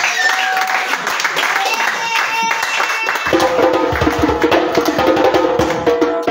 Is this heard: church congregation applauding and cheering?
yes